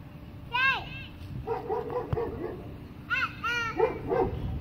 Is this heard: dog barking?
yes